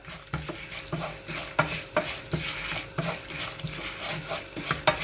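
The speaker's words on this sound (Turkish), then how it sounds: "Bayağı kızartıyoruz arkadaşlar." Steady sizzling of cut pasta frying in a pan, with repeated scraping and clattering strokes of a utensil stirring at an uneven rhythm.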